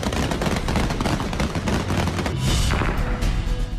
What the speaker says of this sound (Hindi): दहशत बढ़ाने के लिए गोलियां बरसा रहा है